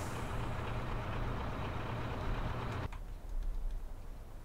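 A Disneyliner truck idles with a steady low engine drone and broadband rumble that cuts sharply near the three-second mark, followed by quieter mechanical knocks and clicks inside the cab.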